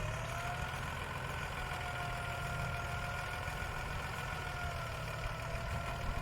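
A Ford 7840 six-cylinder tractor engine runs smoothly and steadily at idle on a sugarcane field, a constant low drone heard from a moderate distance with no voices.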